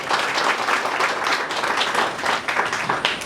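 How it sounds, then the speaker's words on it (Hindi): Applause from an audience at the inauguration of a pilot training school, honouring two trainee pilots; dense, steady clapping fills the whole moment, fairly close and loud, with no speech over it. "इन दोनों के लिए तालियां बजाइए जरा।"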